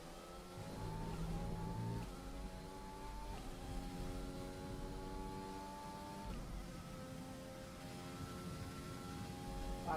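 Formula 1 race car engine in the F1 2020 video game at Spa, a loud sustained high-pitched whine that climbs through gear changes, dips on upshifts and rises again, heard alone.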